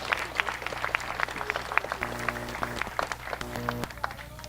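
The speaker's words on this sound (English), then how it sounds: "Let's give her a nice round of applause." Audience applause at a county swine show, scattered clapping from a crowd filling the space for a few seconds, with a faint voice and some tonal background sounds mixed in.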